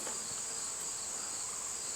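Honeybees swarming around a hive box in the Sourland Mountain during a swarm capture keep up a constant, uniform buzzing drone, unbroken and fairly soft, with no voices.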